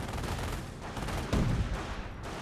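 Rifle fire in Company of Heroes, a dense, continuous crackle of small-arms shots with a heavier burst midway, played alone and fairly loud throughout.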